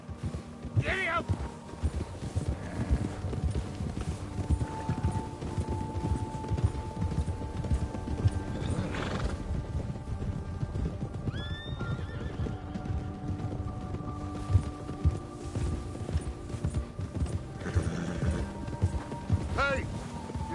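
Horses gallop in a video game with rapid clip-clop hoofbeats and a whinny or two, all under a steady bed of game noise. Characters talk over the ride throughout.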